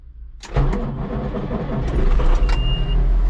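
An engine cranks briefly and catches, then settles into a steady, growing idle rumble that builds in loudness over the next few seconds, with no voices.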